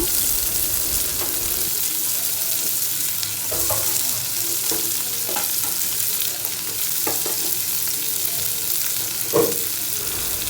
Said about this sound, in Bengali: মাছ ভাজার তেলের মধ্যেই আমি পরিমাণ মতো পেঁয়াজ দিয়ে দিচ্ছি